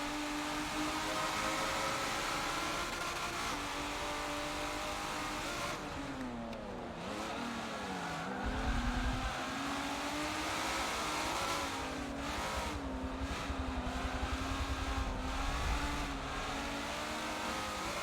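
A Nissan GT-R race car engine in Forza 7, droning steadily with pitch swings as it brakes, accelerates and revs through corners, with faint tire noise, moderately loud and continuous throughout.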